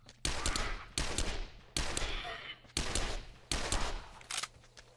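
Rapid bursts of automatic gunfire in the video game 7 Days to Die come in about five loud, sharp volleys with brief pauses between them, with no talk over them.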